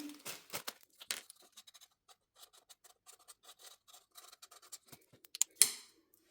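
Marker pen writing a label on a plastic cup holding peony seeds, heard as a run of short, quiet, scratchy strokes with brief pauses, close up, ending in a few sharper rustles.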